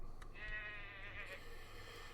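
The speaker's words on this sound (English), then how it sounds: "as you can see, we've got sheep. Nothing fancy, they're just sheep." Sheep bleat in a video game, a steady wavering bleat lasting about a second over a constant low background hum, with no talking.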